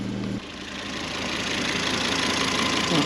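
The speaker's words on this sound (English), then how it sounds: "that's it settled down into its usual idle, which certainly sounds alright to me" Volvo V70 2.5T engine settling into a steady idle after ignition coil replacement, a close even mechanical hum with a brief change in tone at the start, no talk.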